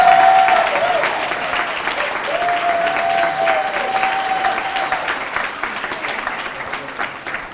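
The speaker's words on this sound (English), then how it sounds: "welcome you with a warm round of applause" Audience applause welcoming a new colleague at the Expo 2022 Rigel Awards, a dense, loud round of clapping that holds steady for several seconds and then slowly fades, with a faint tone running beneath it.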